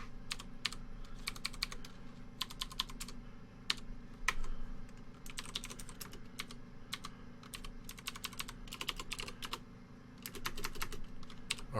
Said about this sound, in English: Why is the keyboard not stepping here?